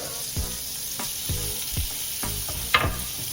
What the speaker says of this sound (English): And then you're going to put your steak into here to cook.